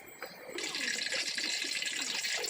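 Water pours in a steady, close, rushing stream into a heated cooking pot while gavran mutton curry is being made. The flow starts after a brief quieter moment and continues without talk.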